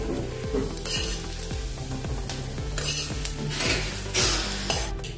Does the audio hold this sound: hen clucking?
no